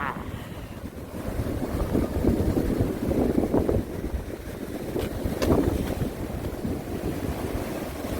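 Huge sea waves surge and crash against the rocky shore at Yeonggeumjeong, a continuous loud roar of surf with heavy wind buffeting the microphone and swells peaking every few seconds.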